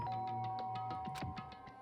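A doorbell chime in the Danganronpa: Trigger Happy Havoc game, a series of soft repeating ding tones over a steady hum, moderately loud and alone without voices.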